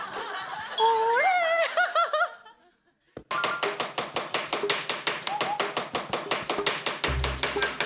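A knife chops rapidly on a cutting board while japchae is prepared, a fast, steady run of sharp, close knocks that follows a short stretch of laughing voices and a brief pause.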